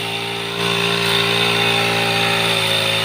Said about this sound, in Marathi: ग्रास कटर मारायला सुरुवात केली आहे